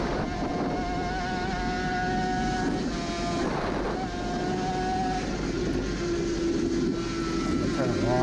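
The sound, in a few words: Suzuki RG500 two-stroke racing motorcycle engine, onboard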